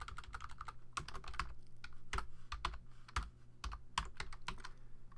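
Typing on a computer keyboard that is acting up during Photoshop design work, with quick uneven clusters of sharp key clicks and a few heavier taps, close and fairly quiet, no voices.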